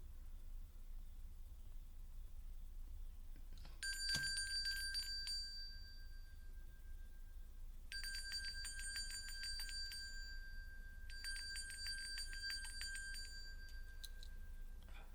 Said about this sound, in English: Let's get that bell rung